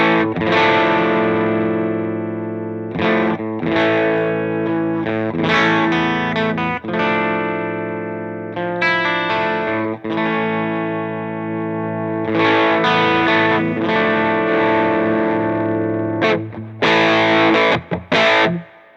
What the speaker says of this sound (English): even with the gain turned right up like that, I could just roll back my volume control and it cleans right up